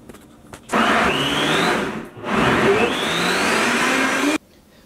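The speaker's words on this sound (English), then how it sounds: "So we're going to get that on the blender, make sure everything's a nice puree." A blender whirs loudly up close while pureeing a marinade with oranges and bay leaves, running steadily, dropping briefly partway through, then spinning up again before switching off abruptly.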